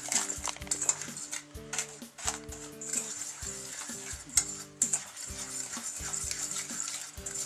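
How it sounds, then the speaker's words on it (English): Spices, salt and sugar are mixed in a pot, giving repeated scraping and clinking strokes of a utensil against metal in an uneven rhythm, close up and moderately loud. "We're mixing that up well before adding it to the dry ingredients in the pot."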